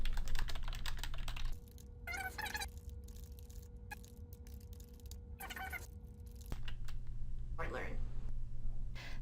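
Rapid clicks of typing on a computer keyboard run throughout, close and steady, with a voice speaking briefly between bursts and a faint electronic hum underneath.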